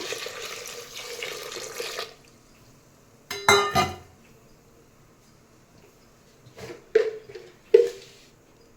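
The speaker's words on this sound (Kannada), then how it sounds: "ಬೇಳೆ ಮುಳುಗುವಷ್ಟು ನೀರು ಹಾಕೋಣ" Water pours onto toor dal in a kitchen pot for sambar, a steady rushing stream at the start, then several short splashy pours and bursts, fairly close and alone.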